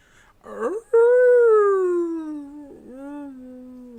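A person's voice imitates a howling wolf: one long, wavering howl that slowly sinks in pitch, then a short rough break and a second, lower, steadier howl that trails off.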